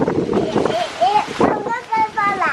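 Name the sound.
wind blowing into the microphone outdoors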